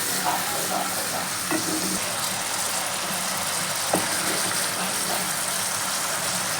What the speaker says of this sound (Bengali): এবার মশলাটাকে খুব ভালো করে আমি তিন চার মিনিট ধরে কষিয়ে নেব